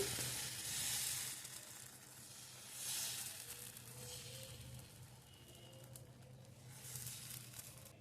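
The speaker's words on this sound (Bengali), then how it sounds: "দুপাশ কিন্তু খুব ভালোভাবে লাল লাল করে ভেজে নিচ্ছি।" A paratha for an egg roll fries in an oiled pan, giving a quiet steady sizzle with soft swelling hisses and occasional faint scraping.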